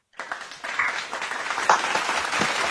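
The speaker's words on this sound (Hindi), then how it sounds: "एक बार तालियां हो जाए फॉर राजीव पाराशर सर" Applause breaks out for a guest at a virtual event, a dense, steady patter of many hands clapping that starts abruptly and holds at an even level to the end.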